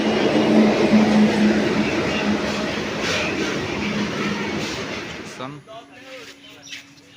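A train rolls into a station with a loud sustained rumble and rattle that fades after several seconds, leaving quieter background sounds and a brief low tone.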